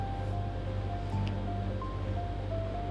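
Beef stew with coconut milk and curry leaves boils in a pot, giving a soft, steady bubbling simmer with faint intermittent pops.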